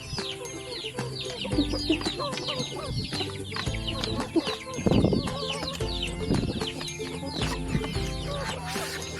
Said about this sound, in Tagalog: Ito yung tandang ko na native, malakas kumasta.